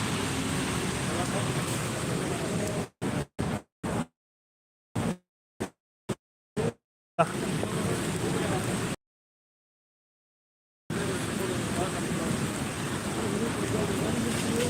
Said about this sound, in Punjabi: ਬਹੁਤ ਜ਼ਿਆਦਾ ਮੀਂਹ ਆਉਂਦਾ